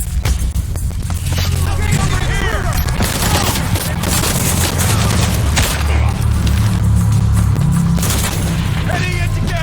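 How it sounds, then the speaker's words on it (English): Sustained gunfire and booming blasts from a firefight in the video game Shadow of the Tomb Raider, dense bursts of shots and explosions running loud and continuous throughout, with voices talking under the din. "Start shooting."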